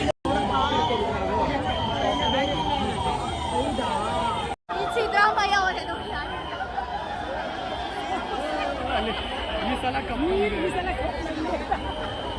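Steady crowd babble fills a full cricket stadium at an RCB versus CSK match, with scattered laughter and a nearby voice speaking over the hubbub, briefly broken by two short dropouts.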